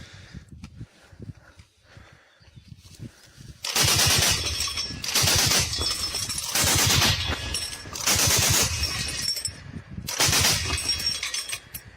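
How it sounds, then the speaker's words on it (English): Heavy machine gun firing incendiary rounds in the Ukraine war, with repeated loud sustained bursts separated by brief pauses after a quieter stretch of scattered rumble at the start. "the Ukrainians are starting to use them incendiary rounds and the heavy machine guns"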